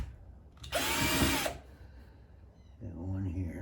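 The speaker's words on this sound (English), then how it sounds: "we'll drill one here." A power drill bores a hole into wood while building a birdhouse: a short, loud burst of high motor whine, followed by quiet handling noise and then a second lower-pitched running sound.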